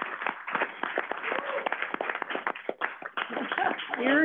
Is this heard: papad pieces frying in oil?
no